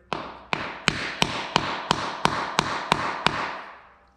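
A hammer drives a lead-sleeved expansion anchor bolt into a concrete floor while a compact bender is bolted down: ten sharp, evenly spaced metallic strikes, close and fairly loud, with no talk.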